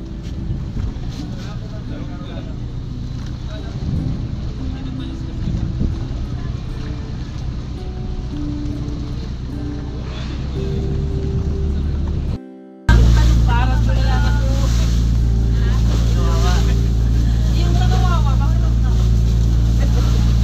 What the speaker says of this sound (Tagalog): paalis na ang bangka